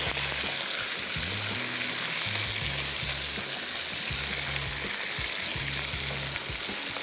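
Chicken pulao simmering and being mixed in a cooking pot, giving a constant loud frying hiss with low bubbling pulses repeating throughout. No one speaks.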